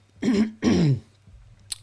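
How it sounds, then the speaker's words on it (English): Two rough, voiced throat-clearing bursts in quick succession, close and fairly loud, followed by a short faint click. "Let me clear my throat"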